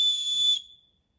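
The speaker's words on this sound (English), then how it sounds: "Oh, that's his mating whistle." A single sustained high-pitched whistle on the Appalachian Trail at Beech Gap, heard alone at moderate level. It holds for about half a second, then fades out to silence.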